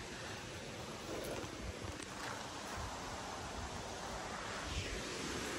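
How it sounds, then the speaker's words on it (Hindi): Mountain stream water rushing steadily on a hiking trail, a continuous broadband wash with wind buffeting the microphone, fairly loud and unbroken throughout. "तो सामने आप लोगों को पानी का आवाज आ रहा होगा"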